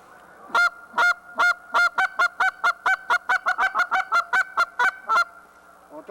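A hand-blown goose call producing a rapid series of short, sharp honking clucks, about twenty bursts in quick rhythmic succession, loud and close with nothing else around them.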